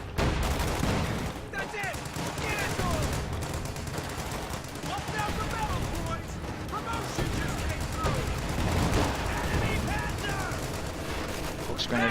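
Machine gun fire in a real-time strategy battle, sustained rapid bursts and scattered gunshots under a commentator's continuous talk, with a dense, busy battlefield din throughout.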